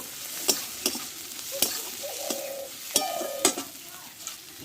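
Okra with green chillies and sugar is stir-fried in a pan, with about eight sharp spatula scrapes and knocks against the metal over a soft, steady sizzle.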